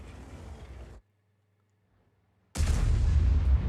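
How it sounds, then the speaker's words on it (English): Artillery fire in a World of Tanks-style battle, with an Object 261 self-propelled gun's shell striking a rock face: a loud burst, then near-silence with a faint low hum, then another heavy, booming blast of rumbling noise. "the shell hit the rock face, and so it didn't do any damage at all"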